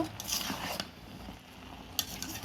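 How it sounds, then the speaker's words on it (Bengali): Meat being sautéed with chilli powder and spices in a pan: quiet scraping strokes of a spoon, with a couple of brighter clinks and a soft sizzling hiss underneath. "মাংসগুলো আমার কষানো চলছে"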